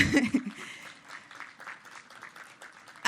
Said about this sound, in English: Can we give Tony a round of applause, please